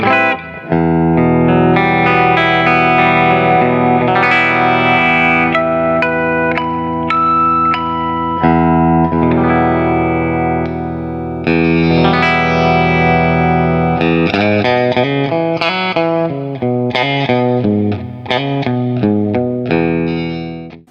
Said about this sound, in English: The full humbuckers, to my ear, at least in clean tones, really usable, big, bold, you know, full tone.